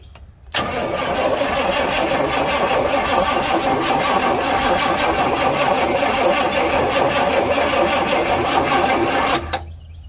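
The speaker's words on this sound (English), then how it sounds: "The motor cranks, so it's not stuck, it's not locked" A 1966 Pontiac Bonneville Superior Consort combination hearse-ambulance engine cranks steadily for about nine seconds, a loud continuous whirring turnover with a rapid rhythmic pulse. It never catches, and it stops abruptly at the end.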